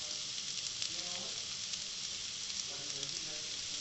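Spiced potato filling for aloo kachori fries in a pan with a soft, even sizzle, while a few faint stirring strokes come and go, quiet and close.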